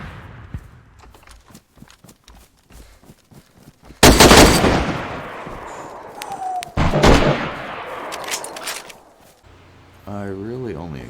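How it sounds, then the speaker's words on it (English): A single-shot carabiner rifle fired from the hip at point-blank range in DayZ Standalone, two loud, sharp blasts a few seconds apart with ringing decay, among quieter in-game movement noises and footsteps. "I hip fired at this guy point blank with a carabiner, a single shot rifle"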